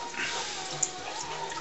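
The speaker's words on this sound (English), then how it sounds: "you just add that a little bit at a time, stirring all the time" Milk trickles into a flour-and-butter roux while it is stirred, a soft continuous liquid hiss with a faint tap of the utensil partway through.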